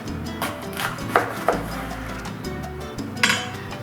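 Kitchen knife slicing a jalapeño in half on a cutting board, a few sharp knocks and clinks of the blade against the board amid light kitchen clatter and a low steady hum, close and clear.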